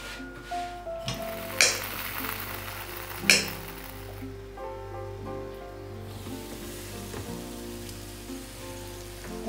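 Chive pockets pan-frying in an oiled pan with heat above and below, a soft steady sizzle broken by a few sharp crackles and faint clinks, close and fairly quiet with no talking.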